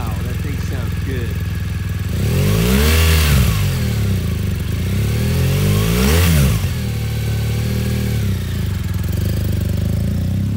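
A used 2018 BMW R 1200 GS Premium adventure motorcycle is revved hard twice, with two strong throttle blips swelling and falling back to a steady, close idle rumble.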